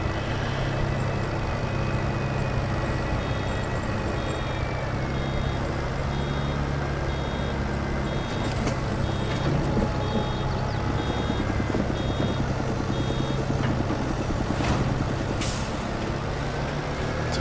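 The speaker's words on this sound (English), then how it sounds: "It's a fairly prominent air compressor noise there." In Farming Simulator 22, a Massey Ferguson 6S/7S tractor with a baler works big swaths of grass, its engine droning steadily under a hissing air compressor and faint intermittent beeps.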